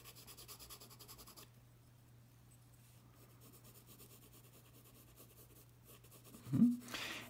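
Graphite pencil rubbing on paper while sketching an egg, a soft, steady scratching close by that swells briefly near the end over a faint background hum.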